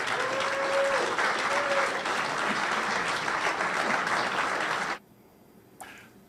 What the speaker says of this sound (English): have you encourage him with a round of applause